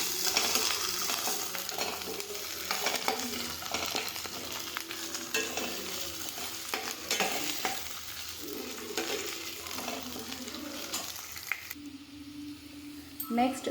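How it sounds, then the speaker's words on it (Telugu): Ginger garlic paste stirred and frying in hot oil over golden-brown onions for a dhaba-style chicken curry, a steady close sizzle with stirring scrapes throughout and a voice talking over it. "ఇది కూడా బాగా వేగనివ్వాలి."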